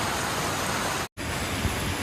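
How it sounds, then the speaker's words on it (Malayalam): Heavy rain pours in a dense, loud, continuous hiss, with a brief cut to silence midway before the downpour resumes just as strongly. "മഴ കൂടി കൂടി വരികയാണ്."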